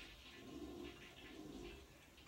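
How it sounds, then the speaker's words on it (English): A toilet flushes in the background of a room, a continuous rushing and gurgling of water heard at moderate distance and fairly faint. "I just flushed the toilet in the back of my video"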